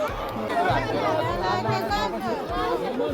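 Dense crowd of devotees chattering at the Aai Jogeshwari temple festival in Nagothane, a steady babble of many overlapping voices close around, with no single voice standing out.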